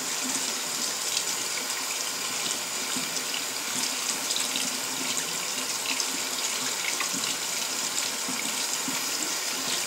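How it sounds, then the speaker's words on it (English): Running tap water pours steadily into a sink while makeup brushes are rinsed, a constant close splashing rush that holds unchanged throughout, with no voices. "And then you just rinse it off again."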